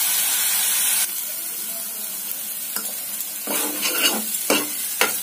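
Masala stir-fried in a hot pan, a loud steady sizzle and hiss with scraping stirs and a few sharp clatters toward the end, close up and without speech.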